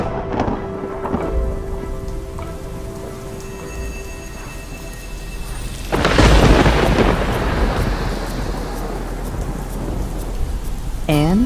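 Steady rain and rolling thunder in a video game, a constant wash of rainfall with a louder thunder surge midway that lingers, and a brief rising tone at the very end.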